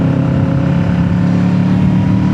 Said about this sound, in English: Let's rev this thing up a little bit.